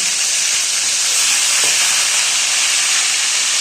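Leftover ginger and garlic fry on low heat, a loud, constant hiss of sizzling oil close up with no pauses or other sounds.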